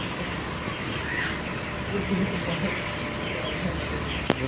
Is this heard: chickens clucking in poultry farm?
yes